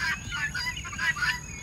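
Chickens in a forest clearing give short clucking calls, a couple of quick bursts in close succession, moderately close over faint background noise.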